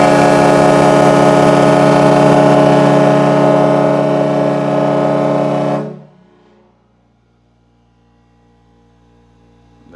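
A Kahlenberg T3 ship and yacht air horn with wireless control sounds one long, very loud, steady blast lasting about six seconds, then cuts off abruptly, leaving a faint low hum.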